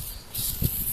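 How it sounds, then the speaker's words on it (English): Glass cleaner sprays onto the windshield of a Ford Transit van during installation, used as a lubricant. A short, close hiss of spray follows a brief quiet moment. "I like to shoot a little bit of cleaner on there just to lubricate it"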